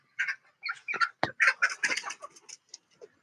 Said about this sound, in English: Chickens are starting to roost, so they must know it's going to rain.